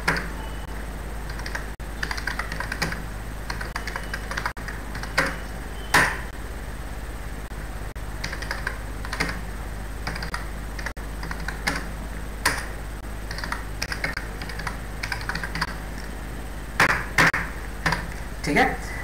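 A computer keyboard is typed on while entering text in MS Word during macro recording, producing close bursts of crisp key taps with brief pauses, and someone talks quietly over them.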